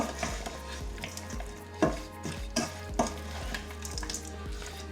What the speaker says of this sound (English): a stir to get all the flavors combined, all the seasoning combined, and ensure that our shrimp is fully coated with the seasoning